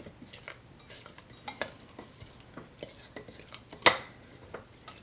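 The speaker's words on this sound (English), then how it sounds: "So I'm going to stir it down." Spoon stirring a bubbly sourdough starter in a bowl, repeated soft scrapes and wet taps with one sharper clink near the end, close and fairly quiet.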